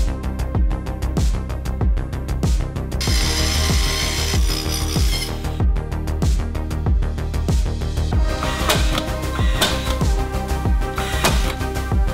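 Power tools drive and cut OSB boards being fitted to a ceiling during an office and gaming-room build, giving loud repeated bursts of whirring and sharp knocking in a fast, uneven rhythm, with no talk.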